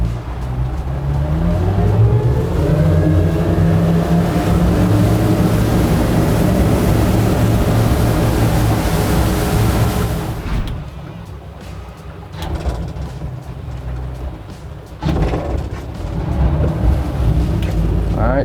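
A 40-foot boat's engine running on plane, a loud, steady droning roar with a rising pitch, then a rougher, choppier stretch of engine and water noise.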